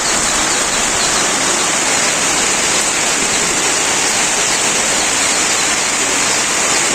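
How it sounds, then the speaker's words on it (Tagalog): Heavy rain pours down steadily, a dense, loud, unbroken wash of noise that stays constant throughout with no voices. "Dahil malakas ulan, pamaya-maya."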